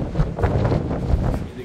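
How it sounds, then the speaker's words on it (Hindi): Strong wind buffets the microphone on a cruise ship balcony at sea en route to Norway, a steady low roar with gusty swells throughout. "बहुत तेज हवा चल रही है, विंडी काफ़ी है"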